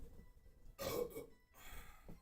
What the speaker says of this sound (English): Great burp.